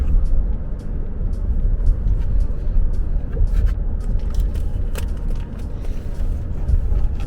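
Dense city traffic of cars, trains and trams, a continuous heavy low rumble of passing vehicles with scattered higher clatters and hisses, close and loud throughout.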